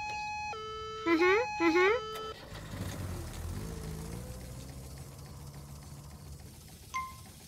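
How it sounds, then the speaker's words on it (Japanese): A siren from a children's police-car cartoon rises and falls in a couple of loud wailing sweeps near the start. A vehicle noise follows, and a short electronic tone comes near the end. "君のサイレンの音かな？"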